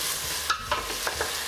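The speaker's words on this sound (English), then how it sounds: "You just need to give them large spices a little fry in the oil to infuse it all" Whole spices and onions fry in hot oil with a steady hiss, and a few short scrapes of stirring rise above it, close up and fairly quiet for about a second and a half.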